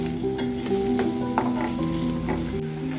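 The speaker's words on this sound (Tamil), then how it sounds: "இப்போ இந்த வெங்காயம் பார்த்திங்கன்னா நல்லா பொன்னிறமாக வர வரைக்கும் வதக்கணும்." Onion sautéing in a pan until golden for dhaba-style palak paneer matar masala, with continuous close sizzling and repeated spoon scrapes as it is stirred. No talking.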